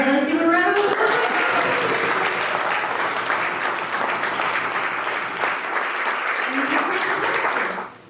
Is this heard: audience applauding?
yes